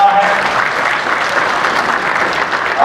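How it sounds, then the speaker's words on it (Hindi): An audience claps loudly in steady, dense applause to welcome the chief minister at a commerce festival event in Raipur, continuing throughout the short moment. "इनके लिए जोरदार ताली मार के स्वागत करना है"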